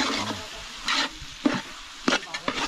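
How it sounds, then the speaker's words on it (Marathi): Onions fry in a pan while being stirred, giving a low sizzle broken by sharp, intermittent scraping strokes of the spoon about every half second toward the end, close and clear, with no talking. "आता कांदा चांगला भाजू देणार."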